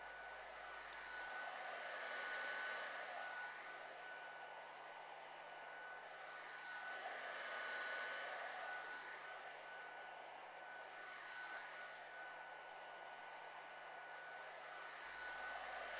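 Heat gun blowing hot air along a molded transition part to shrink it, a faint steady whooshing hum that slowly swells and fades as the gun sweeps back and forth, with no one talking.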